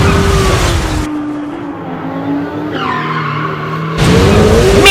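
Hot Wheels diecast cars race down a track, a rolling, whirring rush that drops away briefly, then returns loud with a squealing edge at the end.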